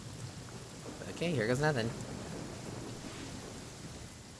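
Rain hisses steadily in Genshin Impact with a low rumble of thunder beneath, while a person speaks briefly in the middle.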